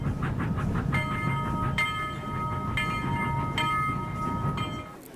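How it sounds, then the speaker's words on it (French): A train passes with rumbling wheels on rails and steady mechanical noise, with metallic ringing tones rising over it for a few seconds. Loud and continuous throughout, with no talk. "Oui, c'est un train."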